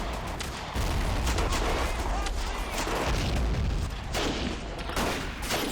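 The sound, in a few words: machine gun fire in Battle of Empires 1914-1918 video game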